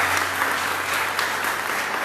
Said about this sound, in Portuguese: Recebam ela com a salva de palmas, por favor